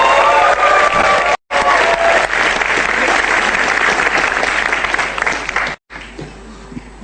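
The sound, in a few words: audience applause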